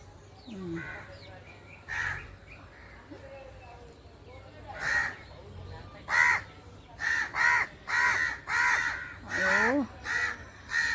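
Crows cawing outdoors around a garden with guava trees, a string of harsh repeated caws that come in bursts, sparse at first and then rapid and loud toward the end, with a person speaking in between.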